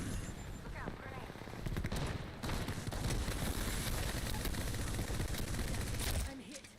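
Video game gunfire from a sandbag knuckle cluster weapon, dense rapid shots and bursts throughout at moderate loudness, mixed with game voice lines and action sounds.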